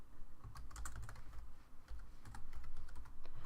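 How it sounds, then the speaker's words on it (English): Rapid typing on a computer keyboard, close and continuous, with clustered key clicks and a few brief pauses while filling fields in a table. "I'm going to push the tab button to easily get me to the next field and type snack."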